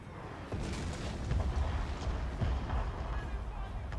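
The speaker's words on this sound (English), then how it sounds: "they've got these light guns firing round shot at us" Light cannons firing round shot in a Fall of the Samurai battle, with dull booms at intervals over continuous low rumble and battlefield noise.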